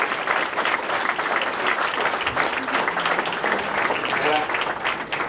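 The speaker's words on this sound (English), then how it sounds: "just a round of applause for the former trustees while we're here" Sustained applause from a banquet audience honoring former trustees at a centennial dinner dance, loud, dense clapping filling the room for several seconds with some crowd murmur beneath.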